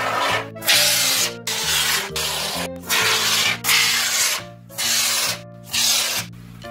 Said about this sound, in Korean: 유리 수조에 우레탄 폼을 쏠 거예요.